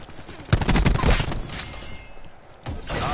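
Rapid bursts of video game gunfire crackle close and loud in a fusillade of overlapping shots, easing into quieter scattered shots before another volley builds near the end.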